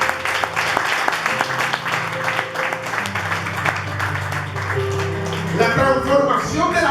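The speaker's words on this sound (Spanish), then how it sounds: "Denle un aplauso fuerte a Dios." A congregation at a Sunday church service applauds loudly over sustained keyboard music. Voices rise near the end as the clapping continues.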